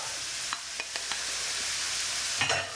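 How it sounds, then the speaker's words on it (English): Curry ingredients frying in a pan, a steady faint sizzle broken by a few soft stirring scrapes, with no talk. "And we're just going to fry them up."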